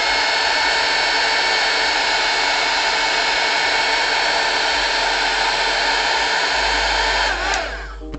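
A heat tool blows hot air steadily over a crayon drawing, producing a loud, continuous whooshing hum that holds for several seconds before cutting off abruptly near the end.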